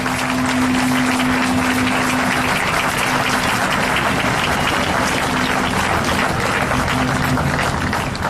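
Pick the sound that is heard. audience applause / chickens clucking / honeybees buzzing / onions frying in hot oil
audience applause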